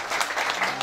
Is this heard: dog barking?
no